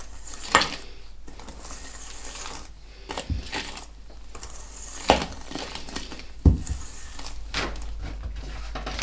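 A whisk beats soft sour-cream cookie dough in a bowl after flour is added, with scattered close scraping strokes and a few sharper knocks against the bowl's side over steady background hiss.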